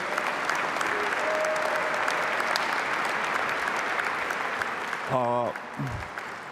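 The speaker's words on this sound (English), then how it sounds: "let's give a big round of applause and congratulations to Brian Kamens" Sustained applause from an audience at a community awards tribute ceremony in Tacoma-Pierce County, steady and dense throughout, with a brief tonal sound and a voice breaking in near the end.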